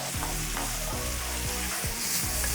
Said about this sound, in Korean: 이렇게 볶다 보면